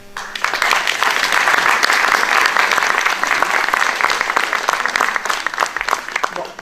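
Loud, dense applause from an audience in a hall honouring the mayor swells in quickly and holds steady for several seconds before tapering slightly at the end.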